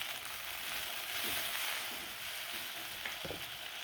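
Onions, tomato and green chillies sauté in a pan for a greens stew, giving a quiet, even frying hiss that holds steady throughout with faint occasional crackles.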